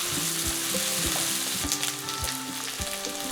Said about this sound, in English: Add the onion and the mushrooms. Stir for 30 seconds.